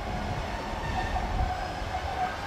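A Class 399 tram train rolls through Rotherham Central station, its low rumble and rail noise steady and fairly close throughout, with no voices over it.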